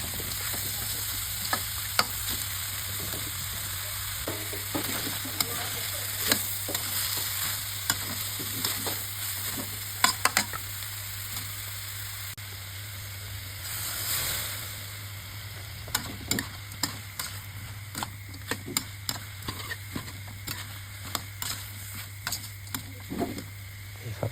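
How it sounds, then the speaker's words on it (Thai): Chicken and pickled bamboo shoots are stir-fried in a pan: a steady sizzle runs throughout, with frequent irregular spatula scrapes and taps against the pan, close and moderately loud. "ผัดไปเรื่อยจน ไก่ที่สุกแล้วครับเนี่ย"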